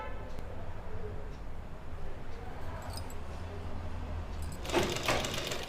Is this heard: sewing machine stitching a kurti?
yes